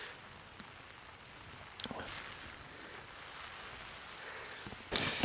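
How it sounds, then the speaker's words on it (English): Steady rain falls at night on a wild camp in the Peak District: an even, hissing patter with a few louder drips, ending in a sudden close, loud rush. "Rain's still coming down."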